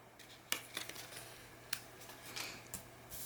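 Scissors snipping through printed paper images for layered paper art, a few crisp close cuts at irregular intervals, quiet and alone.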